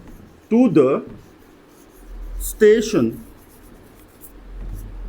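A word is written on a teaching board during a lesson, producing short rubbing strokes between and under bursts of a voice speaking nearby.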